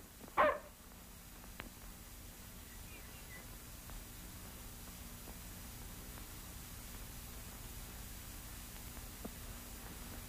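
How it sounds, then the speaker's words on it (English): A police dog gives a single sharp bark at the start in a 1937 crime film, then only a steady faint hiss of background noise continues. "Cops on our tails, police dogs in the front yard"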